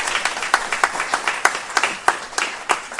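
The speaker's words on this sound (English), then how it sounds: "Everyone give Denise a round of applause." An audience at a live AI education event at a lakeside venue gives a round of applause, thinner and uneven, with separate loud claps standing out at irregular intervals over lighter clapping.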